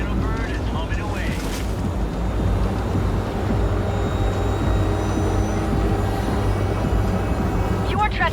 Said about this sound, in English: Did you fire up that drone? The little bird is humming away.